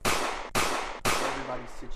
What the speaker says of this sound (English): you just hear rapid fire full auto gunshots just ring out